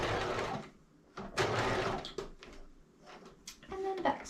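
A sewing machine backstitches a capelet seam in short, close bursts of stitching separated by brief pauses, with faint handling clicks between runs.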